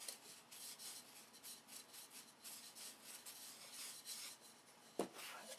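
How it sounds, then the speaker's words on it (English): Sandpaper wrapped around a bottle rubs back and forth along a wooden stabilizer piece, giving steady, close raspy strokes in a quiet room, with one sharp knock near the end. "So now, I got a bottle with some sandpaper on it."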